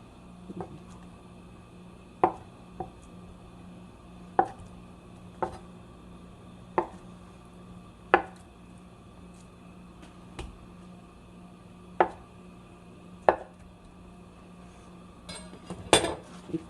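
A knife chops tofu and mushrooms on a cutting board for a tofu mushroom salad, with about a dozen crisp, evenly spaced cuts standing out clearly over a quiet kitchen background.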